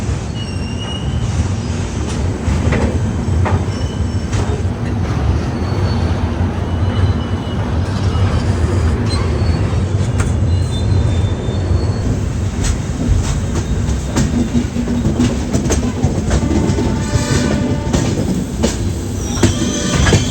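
Goods train rolling across a bridge near Vizag, a loud continuous rumble and rattle of wagons with wheel squeal and clacking, heard steadily from a passing train.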